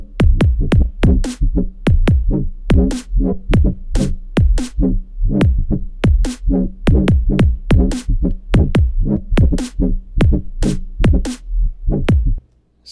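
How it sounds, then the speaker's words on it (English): Loud electronic bass sounds made with the Xfer Serum synth in Ableton Live 10 pulse in a steady, choppy rhythm, a run of dubstep-style womps and wobbles played back to back with no voice. "today I'm going to make some dubstep womps and wobbles"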